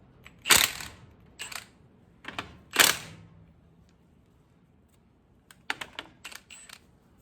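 Bolts being loosened on the front axle of a 1996 Ford F-350: a few sharp metallic clicks and clanks spaced irregularly, then a quick cluster of light ticks near the end, close by with no talk.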